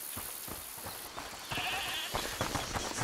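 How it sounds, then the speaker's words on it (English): A goat bleats in the game A Plague Tale: Requiem, several nasal bleats at moderate distance over a noisy ambient bed, repeating through the stretch. "Listen, is that the goat he talked about?"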